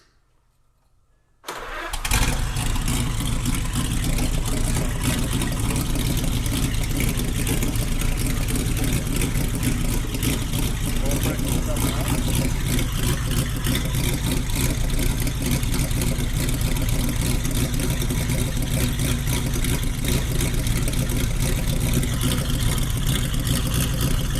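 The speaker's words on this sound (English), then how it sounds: "Ignition on, and then the starter, and I can activate the starter here" A vintage Lycoming engine for Auburn, Cord or Duesenberg cars cranks on its starter after about two seconds of near silence, catches and settles into a steady, loud, loping idle that runs unbroken to the end.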